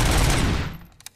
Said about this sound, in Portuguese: Minha pistola virou uma metralhadora.